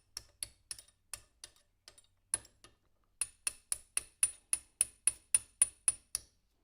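A hammer taps a metal punch to drive out the winding crank spring of an Amberola phonograph. The light, sharp metallic ticks come in a steady series, thin at first and then brighter and more regular, close-up and fairly quiet.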